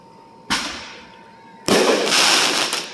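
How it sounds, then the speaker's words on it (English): Neighborhood Fourth of July fireworks burst twice from a distance, first a sharp bang with a fading crackle, then a louder explosion followed by a sustained sizzling crackle. "There are people setting off fireworks over there again."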